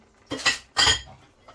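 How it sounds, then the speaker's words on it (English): Okra is added to a cooking pan that already holds melting coconut, making two quick close clattering knocks of utensil against pan, with a short pause between them. "I'm gonna put the okra."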